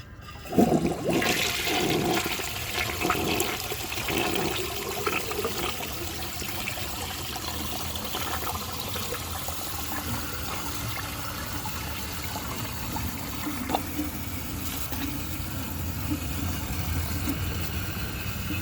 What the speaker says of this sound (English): unscrew the ball on that float and let it fill all the way up